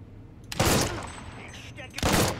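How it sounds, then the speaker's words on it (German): Two sharp, loud sniper rifle shots in the video game Mafia 3 crack about a second and a half apart, each with a brief echoing tail. "zwei Schüsse mit dem Scharfschützengewehr"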